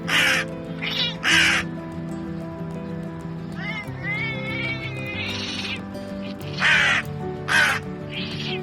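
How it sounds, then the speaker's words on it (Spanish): A crow caws in harsh, repeated bursts while fighting a cat, with cat yowls mixed in; the calls come close and loud in clusters of short, grating cries over a continuous background of talk. "esta pelea entre un cuervo y un gato es simplemente increíble"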